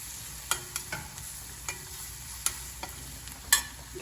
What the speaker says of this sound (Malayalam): ഇതൊന്ന് എണ്ണയിലൊന്ന് മൂപ്പിച്ചെടുത്തതിന് ശേഷം